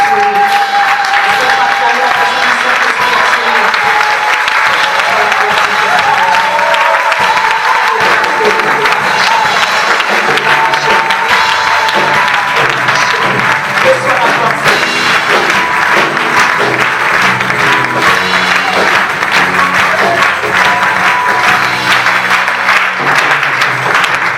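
A church congregation applauds and cheers continuously for about twenty-five seconds, dense and loud, with voices and shouts mixed into the clapping and music underneath.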